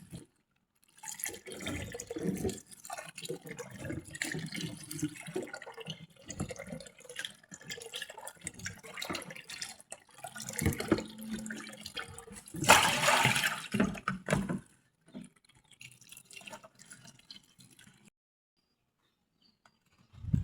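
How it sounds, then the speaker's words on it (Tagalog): Kamias fruit washed in water, with close splashing, sloshing and dripping in bursts, a louder swirl of running water near the end before it falls quiet. "Hugasan muna natin."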